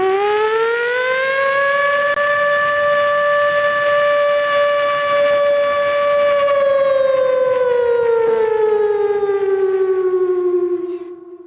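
A performer at a cultural festival stage in Puttur imitates a factory siren with the voice, holding one loud, sustained wail that stays level for several seconds, then sags in pitch and fades.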